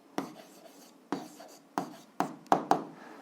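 Pen or pencil strokes on paper while an answer to an algebra exercise is written by hand, six distinct close scratching bursts in an uneven rhythm, with no talk over them.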